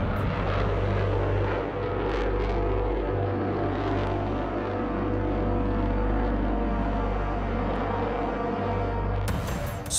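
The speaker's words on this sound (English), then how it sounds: "the engines are so powerful that the MiG-29 can ascend vertically like a rocket" MiG-29 fighter jet engines roar steadily and loudly throughout, a continuous powerful rumble with a deep low drone and broadband rush that stays constant before cutting off near the end.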